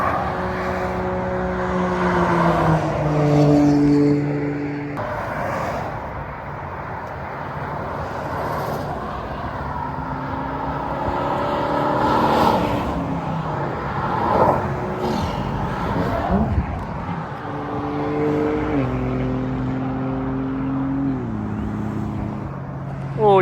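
Supercars, among them a Toyota Supra, speed along a Normandy motorway, their engine notes rising and falling in several loud passes, with revving tones sweeping up and down as each car goes by.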